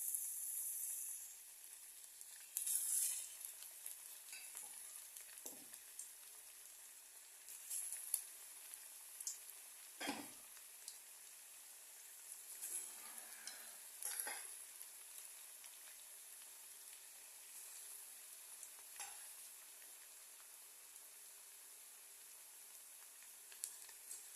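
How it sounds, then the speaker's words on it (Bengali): Chicken pakoras sizzle quietly in hot oil, a soft, steady crackle running the whole way with a few small pops and stirring scrapes, faint and close with no talking. "এখন এটাকে ছোট ছোট করে পকোড়ার আকারে ছোট ছোট করে আমরা এটাকে ফ্রাই করব"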